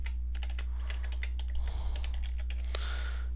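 Rapid typing on a computer keyboard as a username and password are entered, with steady irregular clicks throughout over a constant low electrical hum, no voices.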